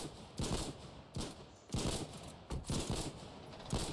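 Gunfire in the Foxhole war game, a series of six or seven sharp rifle shots in an uneven rhythm, moderately close and fairly quiet, with no talk.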